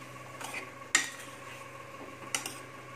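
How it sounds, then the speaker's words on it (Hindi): A spoon scrapes and clinks against a pan while salted samosa filling is stirred, two sharp metallic knocks standing out over a faint, quiet background. "सॉल्ट डालने के बाद इसे हम मिक्स करेंगे"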